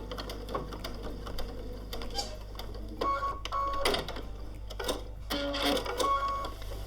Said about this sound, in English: pop the foot down and sew to the end. When you get to the end, reverse back to keep that nice and secure.